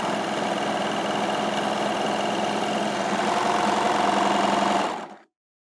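A Baby Lock Victory overlocker sews a line of stitches through fabric, a loud, close, continuous high-speed whirring and clatter that holds steady for about five seconds before stopping abruptly.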